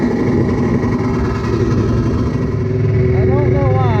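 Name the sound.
motorcycle engine cranking and running after rebuild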